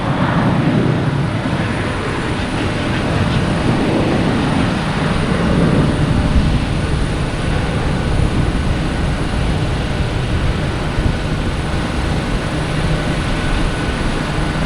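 An Airbus A321 airliner lands at Boston Logan Airport, its jet roar a steady, broad rumble at some distance that holds without a break.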